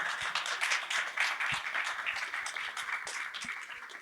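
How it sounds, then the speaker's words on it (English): A conference audience applauds panelists after a Web3 public goods discussion, a fairly small crowd giving brisk, scattered clapping at moderate volume, with a few distinct close claps over the general patter. "Can we get a round of applause for these guys,"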